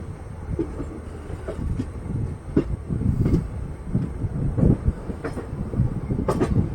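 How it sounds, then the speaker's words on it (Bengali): A Kolkata–Guwahati train rolls along steadily with a low rumbling drone and occasional rhythmic clacks and knocks from the carriage, no voices. "জাস্ট থামার দু তিন মিনিটের মধ্যেই ট্রেন ছেড়ে দিল"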